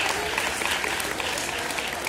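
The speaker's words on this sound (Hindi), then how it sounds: "जोरदार तालियां, बहुत मेहनत की थी इन्होंने मॉडल के लिए," Students and guests at a school prize ceremony clap in a brief, dense burst of applause for model-making competition winners, steady and moderately loud.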